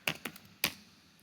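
Three sharp keystrokes on a computer keyboard, two quick taps close together and then a louder one, close and clear with no talking.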